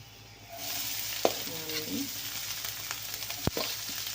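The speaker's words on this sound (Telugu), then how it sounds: "ఇవి బాగా ఫ్రై అయిన తర్వాత ఇప్పుడు ఇందులోకి మనం ఆనియన్స్ యాడ్ చేద్దామండి." Onions dropping into hot oil in a pan for a ridge gourd fry burst into a loud sizzle, then keep frying steadily with occasional stirring clinks and a sharp utensil knock, close and without talk.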